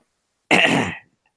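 A single short, loud throat clear, heard close and alone.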